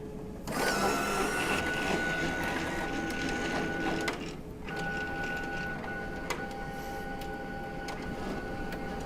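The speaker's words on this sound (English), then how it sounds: "The printer will now pull the isopropanol card in and run it through the length of the printer and up into the vertical option." A CR805/CR825/CE875 card printer pulls an isopropanol cleaning card through its length and up into the vertical option, giving a steady mechanical whir with rhythmic ticks and clicks, close and alone, easing slightly after a brief pause.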